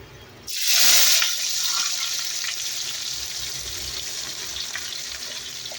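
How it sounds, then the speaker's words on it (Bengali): Sliced onions hit hot oil with a sudden loud sizzle that settles into a steady frying hiss while chicken curry is cooked on an office picnic; no one talks. "পেঁয়াজ আমাদের লাল লাল করে ভাজা হয়ে গেছে"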